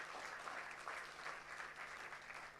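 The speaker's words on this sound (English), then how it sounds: "So I think a great round of applause for all the participants here, first of all." An audience in a college auditorium claps for debate competition participants, a faint, steady wash of many hands heard from a distance.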